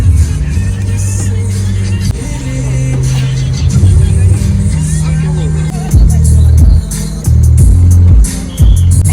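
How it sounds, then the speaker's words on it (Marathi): Low rumble of idling and slowly moving vehicles queued at a toll plaza on a snowy Kashmir highway, engines droning close by with occasional revving, a congested traffic scene. "बघा ट्रॅफिक जाम किती आता इकडे"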